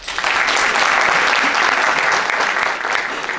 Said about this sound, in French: je vous demande de l'applaudir, Madame Sima Bahiaoui